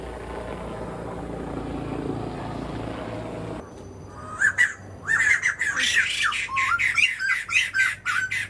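Loud, harsh bird squawks burst out repeatedly at a bird park in Kuala Lumpur, Malaysia, after a low helicopter drone fades, the agitated calls overlapping in a rapid, frantic series.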